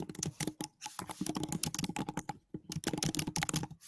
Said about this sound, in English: Sorry if you hear me typing.